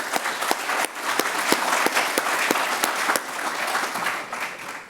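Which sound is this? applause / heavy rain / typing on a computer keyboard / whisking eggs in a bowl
applause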